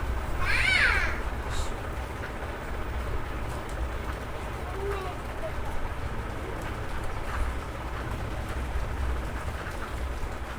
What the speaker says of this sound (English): rain is falling on the mat